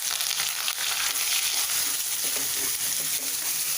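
Onion and curry leaves frying in hot oil for sprouted green moong sabzi, giving a bright, dense, continuous sizzle up close, with faint stirring clicks and no talking.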